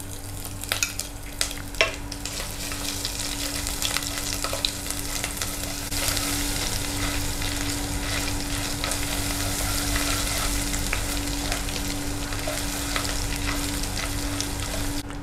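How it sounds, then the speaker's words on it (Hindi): Garlic ginger paste sizzles steadily in a hot pan for arbi sabzi, with a spoon scraping and stirring through it, close and continuous. "अब इसमें हम डाल देंगे लहसुन अदरक का पेस्ट और इसको थोड़ा भूनेंगे।"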